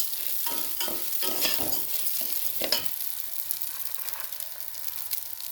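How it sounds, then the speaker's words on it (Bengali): Red lentils stirred into frying khichuri in a pot, continuous close sizzling with rhythmic scraping stirs early on that settle into a quieter steady fry. "এই দেখো মুসুরির ডালটাও দিয়ে দিচ্ছি।"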